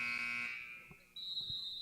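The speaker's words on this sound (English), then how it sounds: "Got another phantom buzzer." A phantom buzzer goes off at a varsity girls basketball game in a gym, a faint high steady tone that fades and then returns sharply, heard from a distance.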